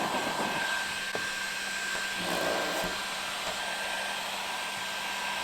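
A heat gun runs steadily up close with a loud, continuous blowing whine while warming double-sided tape on a Camry XSE trunk lid, with small knocks heard over it.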